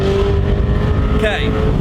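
An Alfa Romeo car engine drones loud and steady while driving, staying smooth and subdued at lower revs, with a short chirping squeal partway through.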